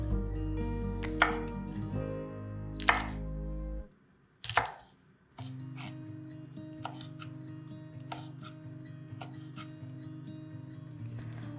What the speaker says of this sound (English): the recipe says to cut the cabbage into 1-inch pieces, which I did